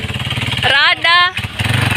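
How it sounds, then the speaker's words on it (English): A motorbike passes close by, its engine note rising then falling over roughly half a second, with people talking before and after. "there's a motorbike passing by"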